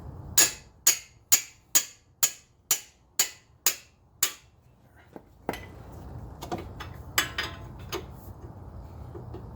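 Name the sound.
hammer whacks on brake caliper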